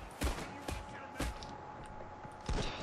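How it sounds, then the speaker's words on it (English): Enemy gunfire in the heist game Payday 2, with repeated sharp shots cracking out in irregular bursts over a constant noisy game background. "They're all shooting me."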